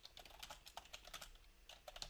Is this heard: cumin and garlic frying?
no